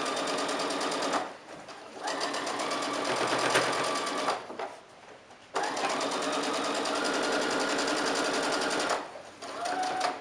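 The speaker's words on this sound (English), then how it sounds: "So I'm going to really make sure that it stays in place as I sew around." A sewing machine stitches around the edge of a fabric mask cover for an N95 mask, running in long steady bursts of rapid mechanical whirring with short pauses between runs, close and loud.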